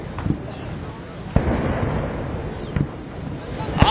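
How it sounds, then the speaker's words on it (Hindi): A 21-gun cannon salute fired at a state welcome for President Putin in India: distant, dull booms at spaced intervals over a steady roar of wind and crowd noise. "21 तोपों की सलामी दी जा रही है राष्ट्रपति पुतिन को"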